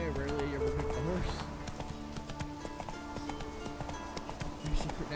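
Horse hooves clip-clop in The Witcher 3 video game, a steady rhythmic trot under game sounds and a tonal musical bed, with a person talking over parts of it.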